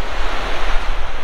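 Sea waves wash against the shore behind a village on Shiyalbet island in Gujarat, forming a loud, continuous surf roar mixed with gusty wind buffeting the microphone.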